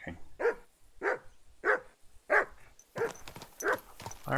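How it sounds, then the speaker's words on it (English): A dog in the video game Kingdom Come: Deliverance II barks seven times in a steady rhythm, each bark sharp, close and loud, with short pauses between. "Dog barking."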